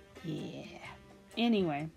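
A house cat meows in the background, a drawn-out call followed by a louder, wavering second meow, close and clear alongside a brief spoken remark.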